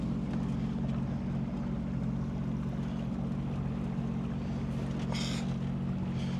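A Sea-Doo Switch pontoon boat motoring along the rocky coast near Tobermory, its engine a loud, steady low drone with wind and water rush, constant and close throughout.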